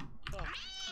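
Cat meowing in the Sims 2 video game, a single short, bright meow heard close and clear, lasting about a second.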